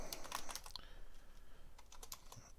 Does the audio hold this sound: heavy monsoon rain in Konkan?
no